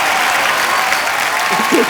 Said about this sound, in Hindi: एक बार सचिन जिगर के लिए जोरदार तालियां